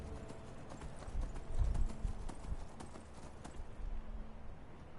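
Horse hooves clip-clopping in a steady galloping rhythm in Skyrim, fairly close, with some rumbling game ambience underneath.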